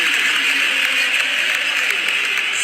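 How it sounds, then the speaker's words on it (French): Stadium crowd at the Santiago Bernabéu, Real Madrid's ground, giving scattered applause as a player leaves the pitch, a steady dense wash of clapping and murmur held at an even level throughout. "Il y a quelques applaudissements"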